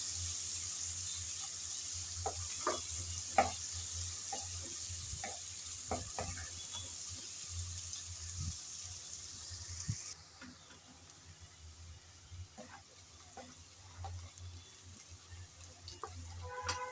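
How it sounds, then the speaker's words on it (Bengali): Chopped onion stirred and frying in a pan for a broiler chicken dish, a steady close sizzle with scattered scraping stirs and light ticks, the hiss dropping quieter partway through. "পেঁয়াজ কুচি দিয়ে নেড়েচেড়ে ব্রাউন কালার করে ভেজে নেব।"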